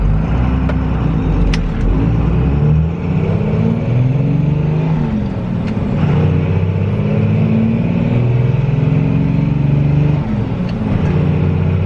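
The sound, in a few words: diesel pickup truck accelerating through gears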